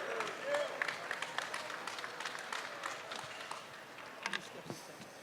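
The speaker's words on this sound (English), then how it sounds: "Give him a big round of applause." Arena crowd at a boxing match applauding and cheering the new WBA light heavyweight champion, a faint, distant wash of clapping and crowd noise with scattered voices.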